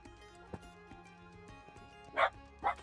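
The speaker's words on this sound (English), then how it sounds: "Other dog wants to come in." A dog outside barks twice, wanting to come in. The two short, sharp barks land close together near the end over a quiet background with faint tones and soft knocks.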